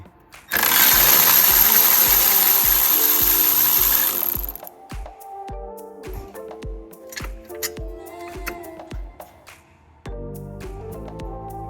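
An M10 bolt on a 2016 Audi A6 motor mount being loosened with a ratchet: a loud rapid burst of tool whirring first, then a regular run of close metallic ratchet clicks.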